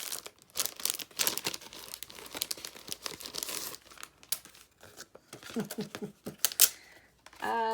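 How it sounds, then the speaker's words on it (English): Dollar Tree sticker package, pineapple-themed stickers, being opened by hand: close crinkling and tearing of plastic wrapping in bursts of rustling, ending in a brief quick rattle. "let's open up our stickers"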